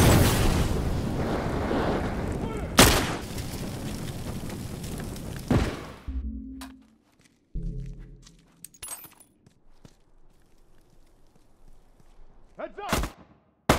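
A thrown explosive detonates in The Last of Us video game, with loud booms and a dense rumble early on, then quieter scattered game sounds and sharp bursts later.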